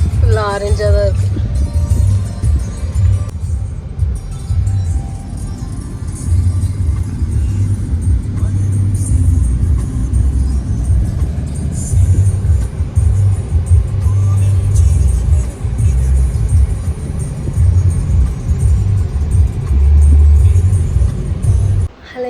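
Road traffic heard from inside a moving car arriving in Coimbatore, a steady loud low engine and road rumble running throughout, with speech over it.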